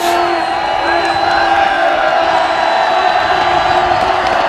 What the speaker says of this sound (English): Panther crowd is getting into it.